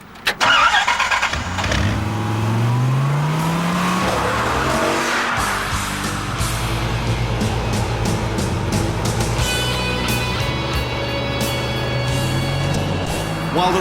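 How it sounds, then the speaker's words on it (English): A Chrysler Dodge Viper, an 8-litre open sports car capable of 166 mph, roars loudly and steadily, its engine revving up through gears with a brief tyre squeal near the start, then holding a strong sustained drone. "Chrysler is talking about this, the Viper, a 166-mile-an-hour, 8-litre Leviathan."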